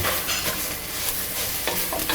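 Duck roast masala with garam masala and chilli powder is stirred in a pan, making a loud, close sizzle with repeated scraping strokes of the spoon over a brief stretch, with no talking.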